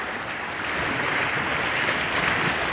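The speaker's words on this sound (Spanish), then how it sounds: "Este es el agua todo directamente desbordado." Floodwater overflowing through a neighborhood street in Barrio Giovinazzo, running about knee-deep, makes a steady broad rushing wash that is moderately loud and continuous, with no voices.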